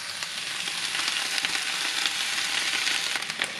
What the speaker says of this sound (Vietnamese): Và mình xào cái này trong 2 phút nữa thì tắt bếp